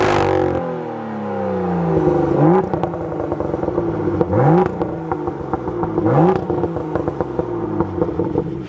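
BMW M4 with the S55 engine and a Dinan muffler, revved repeatedly while stationary: loud, raspy exhaust blips rising and falling in several quick rev cycles over a steady idle burble, with crackles between pulls.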